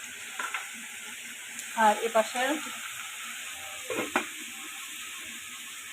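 Red spinach and shrimp fry in a pan with a steady close sizzle, broken by a few brief scraping stirs, while a voice speaks briefly.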